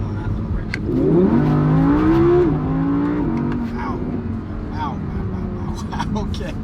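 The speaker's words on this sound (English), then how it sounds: "it's got a naturally aspirated V10, and it just sounds so amazing" An Audi R8's naturally aspirated V10 engine revs up with rising and falling pitch sweeps, a loud, sustained high-revving roar that gradually settles back down.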